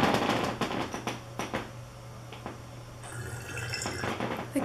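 Water swirling inside a bong in a tornado-like vortex gives a steady liquid wash with soft drips and gurgles, plus a low hum underneath, close and moderately quiet, with no talking.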